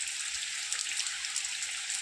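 Rain falls in a village, a steady, even hiss of drops with no break and no voices.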